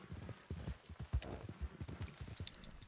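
Horse hooves clip-clop steadily at a walking pace in the video game Red Dead, a close, uneven patter of soft thuds with brief higher chirps near the end.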